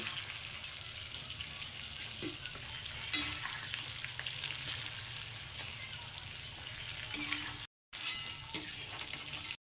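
Onion and capsicum frying in oil in a pan, a steady soft sizzle with occasional stirring clinks, fairly quiet and close, briefly cutting out near the end.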